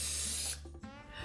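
A loud, steady hiss of cooking spray sprayed into baking tins for about half a second, then it cuts off, leaving faint clinks and quiet room noise.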